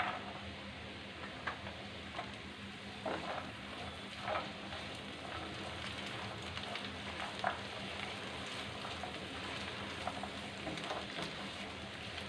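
Garlic frying in a pan over browned onions while cooking Bengali loitta shutki bhuna, giving a steady, soft, close sizzle with scattered faint ticks and pops throughout and no talking.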